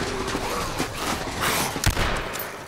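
A gunshot from the H1Z1 video game rings out in a dense, noisy game mix. One sharp crack stands out near the two-second mark, with no talk over it.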